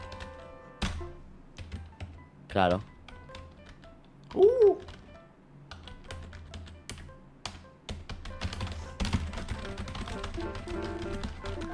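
Keyboard typing in a Five Nights at Freddy's game setting, a run of light clicking taps mixed with game sounds and background noise while people talk over it.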